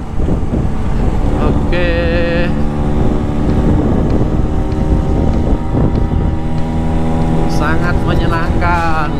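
An old Vespa scooter is ridden at full throttle, and its engine drones loud and steady the whole way through with heavy wind rush. The rider talks and exclaims over the noise.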